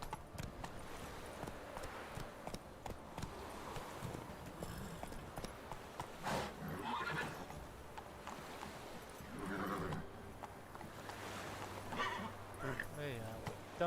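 Roach the horse in The Witcher 3 trots with clip-clop hoofbeats and gives a whinny, fairly quiet and mixed with game sounds while a person talks over it.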